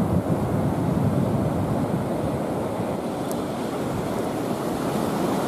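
Cold Atlantic Ocean surf breaks on the beach at New Smyrna Beach, a loud, steady roar of waves mixed with wind buffeting the microphone, with no voices.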